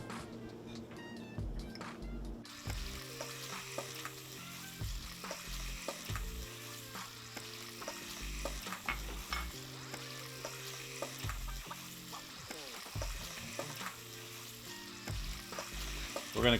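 Shrimp and tomatoes sizzle in a pan for shrimp scampi, a close, steady frying hiss broken by frequent stirring scrapes and knocks, with faint low background hum and no clear talk.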